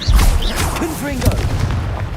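A Confringo fire spell explodes in Hogwarts Legacy, a loud booming blast at the start followed by rumbling impacts and whooshing spell effects during combat.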